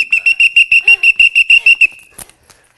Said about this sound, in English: 2 whistles. Come on.